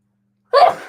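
A single short sneeze, close and fairly loud, bursting out suddenly after silence and trailing off quickly.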